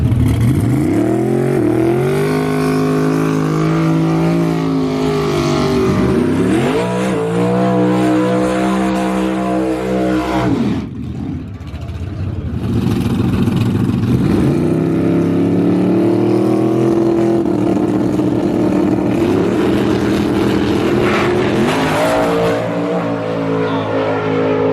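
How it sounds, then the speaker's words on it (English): Small-tire class drag race car making a loud, close pass, its engine revving hard and rising in pitch through repeated gear changes, dropping briefly midway before roaring back up to a sustained high-rpm wail. "we did spin the tires in the small tire class with Michael's car"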